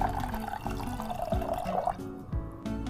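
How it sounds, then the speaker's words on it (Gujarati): About half a cup of water is poured into a cooking pot of dal, making a soft, close splashing trickle that fades toward the end, with faint kitchen clatter. "હવે તેમાં 1/2 કપ જેટલું પાણી ઉમેરીશું,"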